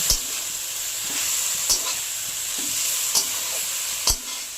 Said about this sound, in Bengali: এবার ভালো করে মিশিয়ে দেব।